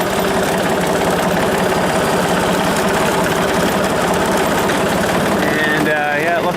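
A tractor engine idles steadily at close range with a dense low rumble and fast regular firing pulses, holding level throughout before a brief whining shift near the end.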